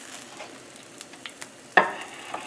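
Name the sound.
chicken thighs sizzling and crisping in a pan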